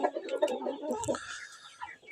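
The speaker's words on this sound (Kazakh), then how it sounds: "бізде бүгін инкубатордан балапандар шықты" Newly hatched chicks just out of an incubator, peeping in high, thin chirps close by, with a lower soft murmur at the start and no talk.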